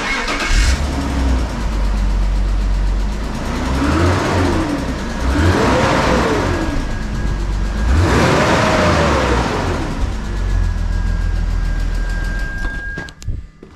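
A BMW E46 with the M54B30 straight-six on its stock exhaust idles close by and is revved several times, each rise and fall clearly heard, before settling back to a steady idle.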